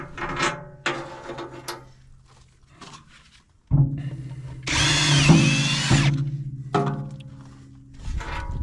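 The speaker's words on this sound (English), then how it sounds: "didn't finish drilling that hole all the way through." A power drill whirs in several bursts, starting and stopping, with a long, loud, high-pitched grinding stretch in the middle as it bores a hole through material on a Kubota BX23S tractor forklift attachment.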